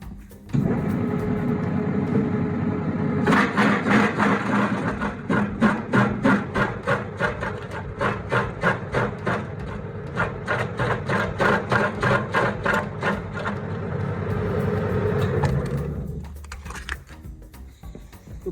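STvega Dicer H400 industrial dicing machine slicing carrots into cubes, a loud steady mechanical whir overlaid with fast regular chopping clacks that run for about twelve seconds before the motor winds down.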